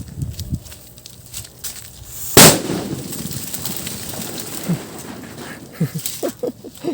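Homemade battery bomb firecracker set on muddy ground outdoors, one sharp loud blast a couple of seconds in, followed by scattered thumps and faint voices.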